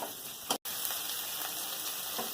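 Spice paste with tomato sizzles steadily in a pan for a vegetarian pumpkin dish, a soft, continuous frying hiss at low volume, with a brief dropout near the start and no talking.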